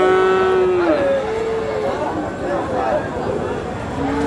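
Cattle at a village cattle market, with a loud nearby moo followed by further lowing calls under a busy background of voices and crowd noise.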